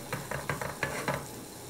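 Butter sizzles softly in a pot for Italian meat sauce, with a faint steady hiss broken by several rhythmic scraping stirs, heard up close with no talking.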